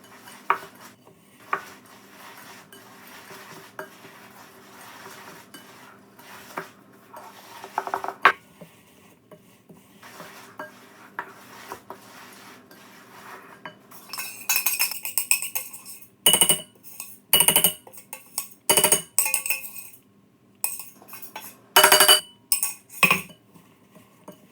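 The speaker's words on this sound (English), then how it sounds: "I've just got a big wooden spoon and I'm just going to mix it up until everything is combined" A wooden spoon stirs a thick rocky road chocolate mixture in a bowl, giving soft scraping under quiet stretches and then a run of louder, irregular knocks and clinks against the bowl.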